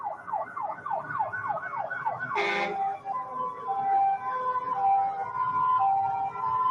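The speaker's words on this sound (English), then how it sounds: "Here's the Riverdale Fire Department coming through." Riverdale Fire Department fire engine passing in a parade, its wailing siren sweeping up and down repeatedly, then a short loud horn blast followed by steady siren tones and engine noise, moderately close.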